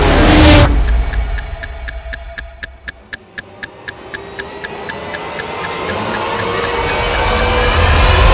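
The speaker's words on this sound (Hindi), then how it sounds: "देखिए, बम टाइमर पे 20 मिनट का वक्त नहीं है।" Dramatized bomb timer in a crime drama: sharp, regular ticks, about three per second, sound clearly over a low rising hum that swells louder toward the end, after a brief noisy opening.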